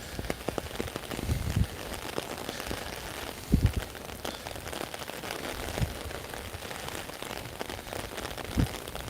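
Rain falling during Hurricane Ian in Beaufort, a soft steady patter of drops on surfaces with occasional louder splats and thumps, quiet and continuous without talk.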